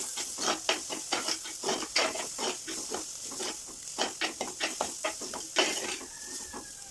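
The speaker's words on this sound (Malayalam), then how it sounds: "അത് നന്നായി ഇളക്കാം" Quick, rhythmic scraping of a spatula stirring a snake gourd thoran with curry leaves in a pan, steady strokes over a light sizzle.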